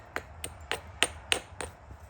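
A hammerstone striking the edge of a stone biface during knapping, six sharp clicking taps at a steady rhythm about every third of a second, close and moderately loud.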